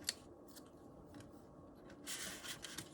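Scissors snip black polymer clay for a wavy blade veneer cuff, a few quiet close cuts and soft rubbing, with a sharp click at the start and a brief rustling burst near the end.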